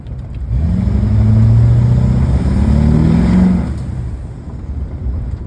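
A diesel pickup truck fitted with a PPE wastegate revs hard and accelerates, its deep engine roar building and holding loud and close for about three seconds before easing off, with turbo spool audible in the climb.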